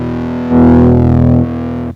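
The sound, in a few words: guitar through homemade distortion pedal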